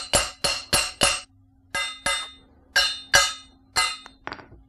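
A hammer striking a part being fitted onto a BMX bike, nine sharp metallic blows in quick groups with brief pauses, loud and close, each hit ringing briefly before the next.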